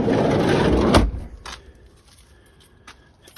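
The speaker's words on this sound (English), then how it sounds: "Shut this door." The door of a 2000 Toyota Sienna minivan slides and shuts with a loud thud near the one-second mark after a rolling rumble, followed by a few faint clicks and a final knock.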